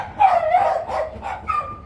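Dogs barking at home, a few yappy barks in quick succession at moderate loudness, rising and falling over a couple of seconds.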